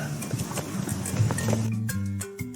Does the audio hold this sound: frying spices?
no